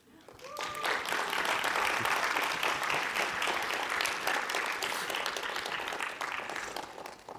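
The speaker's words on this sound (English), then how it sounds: "I'm trying to, you know, to make you clap your hands." A tech conference audience claps after a talk, the applause swelling quickly to a dense, even roar of hands that holds for several seconds before slowly thinning out.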